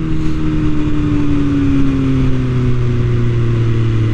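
A motorcycle engine, ridden by a priest, holds a steady loud drone with low harmonic tones sliding slowly downward as it revs, continuous throughout with no talking.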